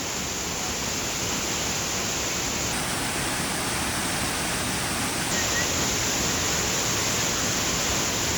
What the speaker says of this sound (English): I really like this waterfall.